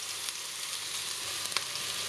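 Eggplant slices pan-fry in hot oil with a steady close sizzle and faint crackling pops, no voices over it.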